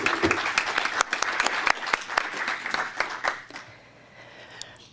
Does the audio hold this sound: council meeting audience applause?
yes